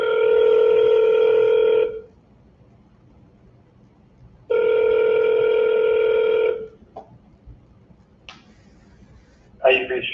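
An outgoing telephone call rings out at dinner time, two long steady ring tones separated by a silent pause, followed by brief clicks and a short burst as the line connects.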